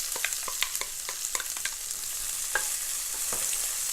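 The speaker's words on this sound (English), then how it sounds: "Now we're going to cook the onions until they are nicely browned" Onions fry with cumin seeds and red chili in a pan, a soft steady sizzle with scattered crackles and pops, busiest at first and then settling, no voices.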